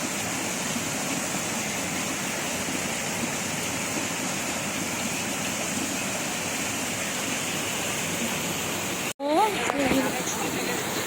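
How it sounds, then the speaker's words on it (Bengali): Heavy rain pours steadily outside as a dense, constant hiss that fills the whole stretch, broken briefly near the end by a sharp thump and a short high sound from indoors. "পানি পড়ছে বাইরে খুব জোরে, মুষলধারে পানি হচ্ছে না বাবা?"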